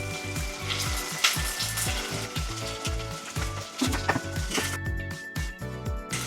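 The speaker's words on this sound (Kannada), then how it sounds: "ಇವಾಗ ನಾವು ದಪ್ಪ ಈರುಳ್ಳಿನೂ ಕೂಡ ಇದ್ರ ಜೊತೆ ಆ್ಯಡ್ ಮಾಡ್ಕೊಳ್ಳೋಣ." Thick sliced onions hit a hot pan for vatha kulambu and fry with a steady, close sizzle, with occasional faint scrapes and clinks over the crackle.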